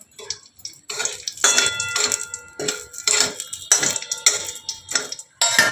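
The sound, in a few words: frying two chillies in oil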